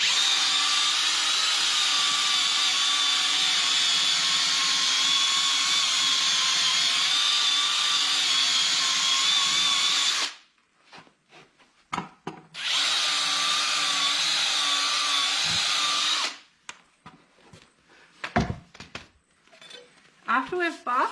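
Power buffer grinding a horse's hoof before shoes are glued on, a loud continuous whir for about ten seconds, then a brief second burst, with pauses filled by clicks and handling noise.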